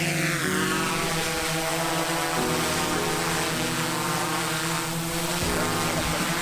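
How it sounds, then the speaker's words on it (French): A professional FPV drone flying, its propellers giving a continuous loud buzzing whine with shifting pitch as it manoeuvres, close by, without talk. "C'est un vrai drone."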